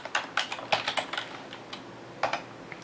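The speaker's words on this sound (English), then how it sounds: "I type in X-Men," Typing on a computer keyboard while entering a comic book title into a collection database: irregular bursts of close, crisp key clicks with short pauses, no voices.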